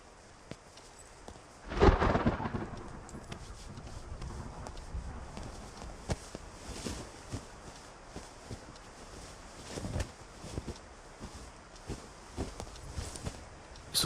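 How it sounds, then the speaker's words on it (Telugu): Heavy rain hisses steadily throughout, with a loud thunder crack near the start and scattered sharp patters and knocks over the downpour; no voices. "వర్షం ఇప్పుడప్పుడు తగ్గేటట్లేదు"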